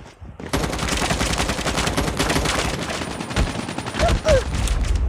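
Loud, continuous automatic gunfire from a Call of Duty multiplayer match on the Tunisia map, with dense rapid bursts of shots filling the whole stretch and a few heavier blasts near the end.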